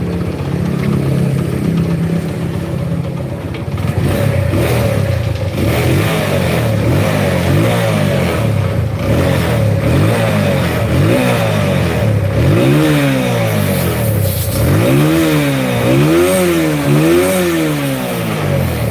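A Honda Mega Pro motorcycle engine fitted with a Primus carburetor revs hard and loud for the whole stretch, climbing toward about 11,000 RPM, with repeated rising and falling throttle sweeps near the end.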